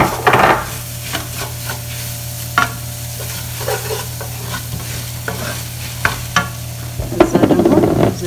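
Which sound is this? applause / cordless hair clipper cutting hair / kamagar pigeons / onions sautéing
onions sautéing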